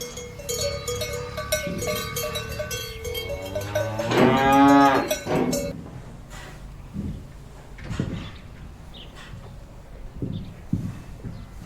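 A cow lets out one long, loud, drawn-out moo close by, with a cowbell clanking and other farm-animal sounds around it before and after.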